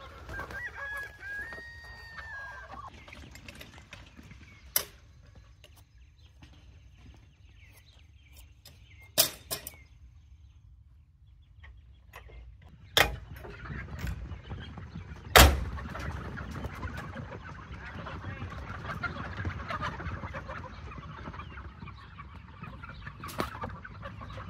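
Chickens on a family homestead cluck quietly and intermittently against a low background, with an occasional crow and a few sharp knocks or thumps scattered throughout.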